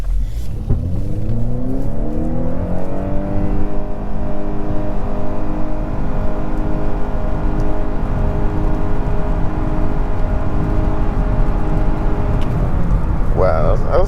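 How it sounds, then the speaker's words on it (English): A 2021 Honda Accord Touring Hybrid accelerates hard from 0 to 60, its engine drone rising steadily in pitch and then holding a strained, even tone under road and wind noise heard from inside the cabin. "See how the accelerator is 0 to 60."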